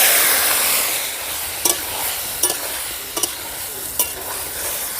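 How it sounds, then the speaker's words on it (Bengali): Tomatoes go into mustard seeds frying in hot oil for a tomato chutney, making a loud close sizzle with several sharp stirring knocks against the pan. "এবারে দিয়ে দেবো টমেটোটা সর্ষের সেন্টও বেরিয়ে গেছে এবারে দিয়ে দিচ্ছি"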